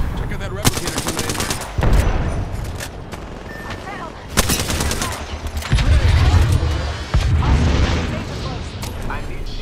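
Gunfire in the Apex Legends video game, with bursts of automatic shots, sharp booms and explosions layered over a dense game soundscape, loud and close, while a voice talks over the action.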